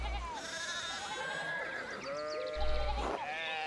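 Sheep bleat in the video game Pentiment, several wavering cries at moderate distance over a quiet background with faint game ambience.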